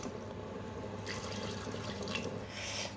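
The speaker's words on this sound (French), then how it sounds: "je couvre les légumes avec de l'eau" Water poured from a tap over chopped vegetables in a Cookeo pressure cooker for vegetable soup, a steady close splashing and trickle that grows brighter and fuller after the first second, with no talking.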